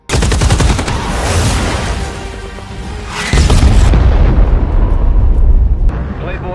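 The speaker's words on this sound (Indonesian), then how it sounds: "Jet tempur dengan kecepatan supersonik ini kembali melepaskan tembakan." Supersonic fighter jets open fire in an action film, with loud sustained bursts of gunfire and heavy booms layered over a roaring soundtrack.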